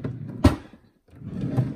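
A craft room storage drawer slides and knocks shut with one sharp thud, followed by a softer scraping slide of a drawer moving, close by with no talking.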